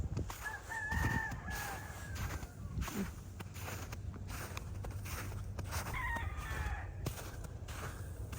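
Roosters kept by neighbours in a Texas neighbourhood crow a few times in the middle distance, outdoors over steady low wind and background rumble, with faint footsteps.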